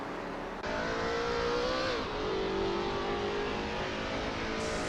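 Race car engines roar in a video game race, a Lola T70 MkII Spyder at Kyalami in 1967, with steady loud droning engine tones, gear-shift pitch drops and rising revs from several cars.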